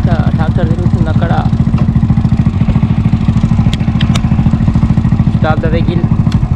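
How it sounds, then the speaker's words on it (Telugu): Tractor engine chugging loudly and steadily while plowing a village field, a close rhythmic mid-pitched drone with people talking over it. "ఇక్కడ ట్రాక్టర్ తిరుగుతుంది అక్కడ"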